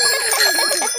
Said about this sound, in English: Ringing your bell lets others know you are there.